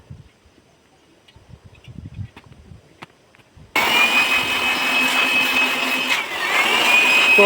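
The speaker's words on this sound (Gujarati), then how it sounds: "હવે આપણે બ્લોઅરથી હવા દ્વારા ફૂંક મારશું એટલે સાફ થઈ જશે" An air blower cleans a Bolero pickup's air filter. Faint clicks and handling give way to a sudden loud, steady rushing hiss of compressed air that holds and swells slightly to the end.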